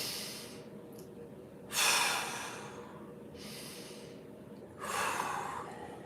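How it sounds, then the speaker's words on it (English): Two deep, slow inhales through the body, each a broad breathy rush lasting about a second, spaced a few seconds apart, close and fairly loud with quiet gaps between. "Use the diaphragm, nice big inhale"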